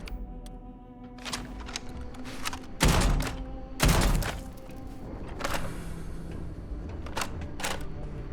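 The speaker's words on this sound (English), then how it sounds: "Let's see how fast the reload is for it." An incendiary shotgun is reloaded in the video game Starfield, with a quick series of mechanical clicks and two heavier thunks over a steady game background.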